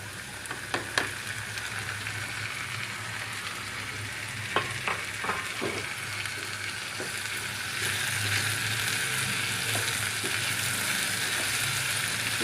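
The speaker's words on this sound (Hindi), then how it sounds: "इसे तकरीबन 1 मिनट और भूनेंगे।" Whole red and green chillies and a tomato frying in hot oil give a continuous bright sizzle, with a few sharp pops and utensil taps, growing slightly louder toward the end.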